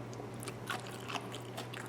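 Crunchy Cleveland Kraut sauerkraut is chewed close up, with a few distinct crisp bites and crunches spaced through a brief, quiet moment, and no talking.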